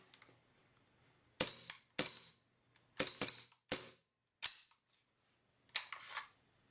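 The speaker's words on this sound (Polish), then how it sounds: "pokażę na szybciutko jak to strzela." KJW CZ75 airsoft replica pistol firing six sharp, loud snapping shots at irregular intervals, each with a short mechanical rattle, heard close with quiet pauses between.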